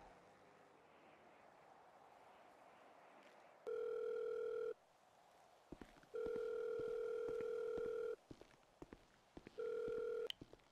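A phone in a GTA roleplay game gives several steady dial-tone bursts of about a second or two each, separated by clicks and short gaps, loud and clean over faint background hum.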